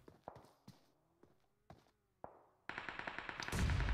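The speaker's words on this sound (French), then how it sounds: "la grenade qui va passer pas loin du front de iOS, qui va tenter sa chance, mais ça va pétarader autour de lui" Video game combat: several spaced, sharp gunshots that give way to a dense burst of rapid fire, then a loud grenade blast at the end.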